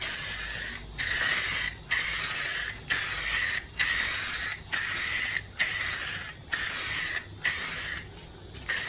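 Oil-based primer is sprayed onto furniture outdoors in about ten steady hissing bursts, each roughly half a second to a second long, separated by brief pauses, close and fairly loud, with no talking.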